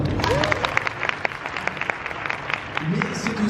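A conference audience at a fan event for the Disneyland Paris anniversary breaks into steady, dense applause that fills the room, with a voice briefly audible over the clapping.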